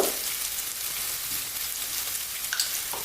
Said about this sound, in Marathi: त्याचबरोबर आता आम्ही यामध्ये टाकणार आहे हिंग